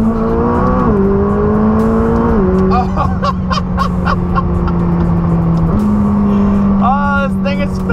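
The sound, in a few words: McLaren 600LT engine accelerating in track mode, 2nd gear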